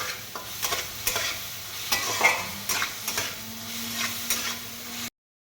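A little sugar caramelising in the middle of a hot kadai for a mutton curry: a close sizzle broken by repeated stirring scrapes, then sudden silence near the end.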